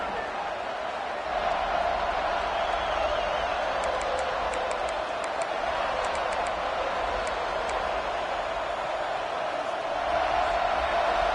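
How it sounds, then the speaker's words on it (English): A packed stadium crowd in the College Football 26 video game roars continuously, a loud sustained wash of noise with faint whistles and cheers rising briefly in the middle. "This crowd bringing an ear-splitting welcome to their visitors"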